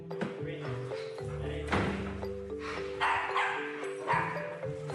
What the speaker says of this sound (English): when big dogs start running around barking and carrying on